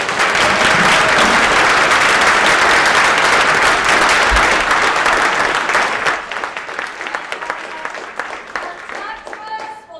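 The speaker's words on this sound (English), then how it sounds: "Can I get another round of applause?" Loud, dense applause from a college audience at a flex day gathering, steady for several seconds before thinning out into scattered claps near the end.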